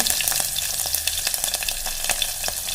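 Mustard seeds, cumin, chilli and curry leaves sizzle in hot oil for rasam, a steady close frying hiss with scattered small pops and crackles.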